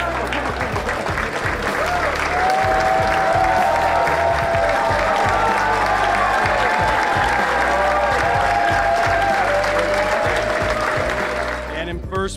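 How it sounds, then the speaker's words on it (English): A large audience at a prize ceremony claps steadily for the winners, dense, loud applause filling the room with a few cheers, while music plays beneath, before it fades out at the end. "A round of applause for Open Problem sponsors."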